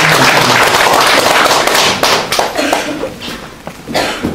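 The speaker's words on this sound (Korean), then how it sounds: "박수 한번 해주세요." Applause breaks out from an audience at a Korean civic movement founding ceremony, a dense wash of clapping that stays loud and steady and then thins into scattered, uneven claps.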